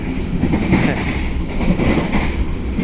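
An electric commuter train rumbles past close by with a steady roar and faint rhythmic wheel clatter on the rails, loud and continuous throughout.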